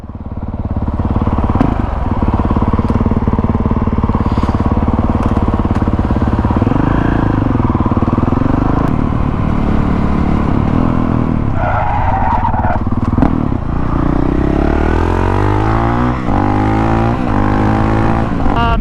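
A Honda CRF450L motorcycle idles close by and is revved repeatedly, its loud engine rising and falling through several throttle blips and sustained revs over a steady rumble.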